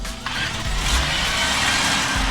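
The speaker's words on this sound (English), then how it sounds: "the 4-cylinder sounds small and distant" BMW X5 xDrive40e hybrid's 4-cylinder gas engine heard from inside the cabin, a steady, muted, distant hum under broadband road noise, with no talking.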